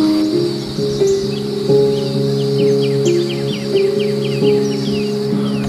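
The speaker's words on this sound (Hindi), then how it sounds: "बहुत अच्छी यहाँ पे आवाज़ें आ रही है पक्षियों की सुबह सुबह।" Birds sing and chirp steadily in the early morning at a backwaters property in Kerala, repeated clear calls and trills over a constant insect-like hum, with no voices.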